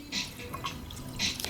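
Coolant is poured into a car's engine during a repair, with light liquid trickles and splashes in a few short bursts, close and fairly quiet, no talking.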